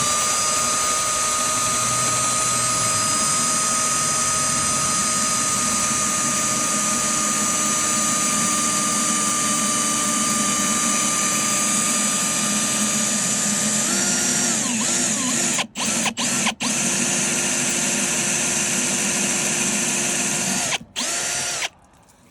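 A power drill runs loud and steady for about fourteen seconds while a storage-unit Coca-Cola soda machine is repaired, then revs in shorter bursts with brief stops toward the end.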